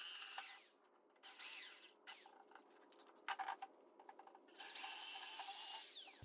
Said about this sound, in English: And we'll drill 2 holes in there